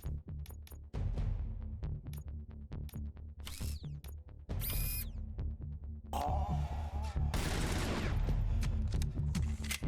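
Gunfire in Robocop: Rogue City, with a rapid steady string of loud, close shots over a low droning hum, then longer heavy bursts with crashing impacts.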